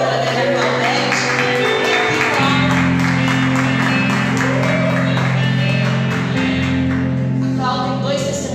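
A church congregation at a family service applauding, sustained dense clapping from a crowd, with loud music and singing over it.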